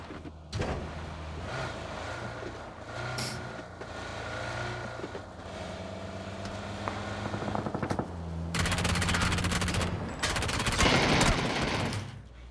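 A P90 submachine gun fires in PUBG on the old Erangel map in long rapid bursts that come close and loud, with a vehicle engine droning underneath.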